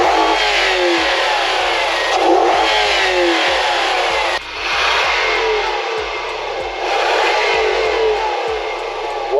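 A 2001 Lexus LS430's 4.3-liter V8 engine revs hard again and again, rising and dropping in pitch, loud and close with no voices.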